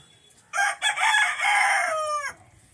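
A country rooster lets out a single loud, close crow lasting nearly two seconds, rising in a stuttering start and trailing off, against an otherwise quiet yard.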